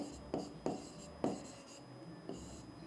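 Chalk or marker strokes on a board during a biology lecture, four short scratchy bursts spaced irregularly in a quiet room.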